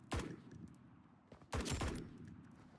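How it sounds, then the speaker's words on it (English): Gunfire in the shooter game Blackhawk Rescue Mission 5 comes as two sharp bursts of shots about a second and a half apart. Each burst is punchy and close, with a quiet gap between them and no voices. "we'll just aim at the guy and shoot him in the head"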